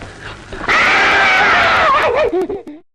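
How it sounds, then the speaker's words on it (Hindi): A loud, sustained high-pitched scream from a woman, held for over a second before breaking into shorter wavering cries that fade out. "उसकी चीखने की आवाज।"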